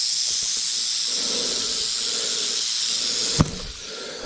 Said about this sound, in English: And there goes the rattle.